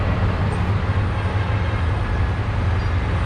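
Train rumbling at a railway station, a steady low-pitched drone with broadband noise holding constant throughout, close and moderately loud, with no voices.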